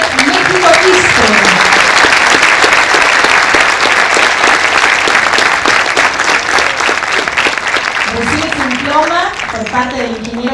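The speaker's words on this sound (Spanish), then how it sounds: "el mejor aplauso para la ingeniera Mari Janet México Quispe." An audience claps in sustained, dense applause at an engineers' swearing-in ceremony in Lima, loud and close, with a speaker's voice coming through near the end.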